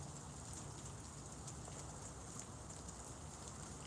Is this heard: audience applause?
no